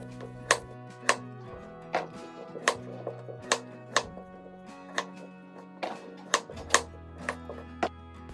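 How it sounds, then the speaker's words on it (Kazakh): A knife chops potatoes on a cutting board, sharp close knocks landing at a steady, unhurried rhythm over a faint low hum, with no talking. "Ең бірінші картопты ортасынан бөліп, әр бөлігін 3-ке немесе сіздерде үлкен картоп болса 4-ке бөлуге болады"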